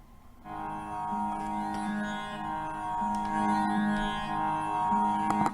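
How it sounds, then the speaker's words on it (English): A sustained synth pad from a Loopmasters mixtape sample pack plays in Ableton Live, holding steady layered tones with a soft swell and faint rhythmic ticks above, moderately loud and alone. "we're going to use this synth pad, this first one here. So it sounds like this"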